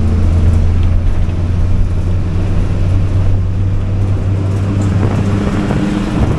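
Rattling, worn-out pink city bus in Sri Lanka driving with its doors and windows open, a loud steady engine drone and road rumble with rattles mixed in, continuous and close, with no talk.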